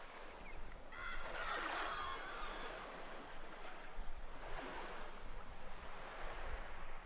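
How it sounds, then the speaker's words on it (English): Sea waves wash onto the shore in a soft rolling rhythm, one surge breaking with a fizzing spray, then a continuous wash with wind noise underneath. "the soft rhythm of the sea"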